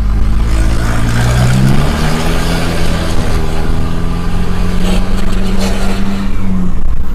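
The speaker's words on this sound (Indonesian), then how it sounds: "jadi ini kalau full pipa itu suaranya itu seperti fuso, suaranya itu grok nih." A car with a full-system aftermarket exhaust accelerating hard while overtaking, heard as a loud, close, deep, gravelly engine drone that rises in pitch across the stretch.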